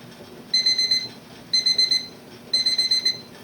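A timer alarm beeps in three bursts of rapid high-pitched pulses, each burst separated by a short pause, loud and close.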